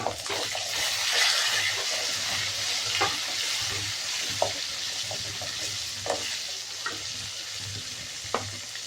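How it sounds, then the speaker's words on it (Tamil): Tamarind and tomato sauté in a hot pan, a continuous close sizzle and frying hiss with occasional sharp taps and scrapes of a stirring spoon; no talking. "இது நல்லா வதங்கட்டும்."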